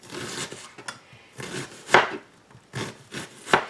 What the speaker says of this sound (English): recipe calls for 1 chopped onion, so we're going to chop 1 onion.